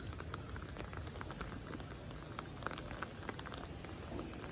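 Heavy rain drums steadily on an umbrella outdoors beside soaked solar panels, a dense, continuous patter close overhead with no pauses across the whole stretch.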